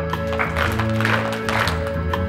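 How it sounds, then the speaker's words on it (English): Preschool children clap together at a preschool program, a steady patter of small hands over background music with tonal lines, continuous and moderately loud. "Everybody clap."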